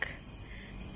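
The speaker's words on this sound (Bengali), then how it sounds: "চারিদিকে ঝিঝি পোকার ডাক" Steady, dense cricket chirring fills a forest of old trees, a continuous high shimmer at moderate volume with no voices.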